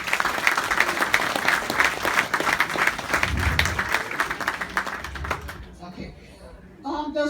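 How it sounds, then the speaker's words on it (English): Audience at a charity gala applauding sponsors and donors of a medical mission, dense continuous clapping for several seconds that thins out, with a voice speaking briefly at the end. "Please give them a hand of applause."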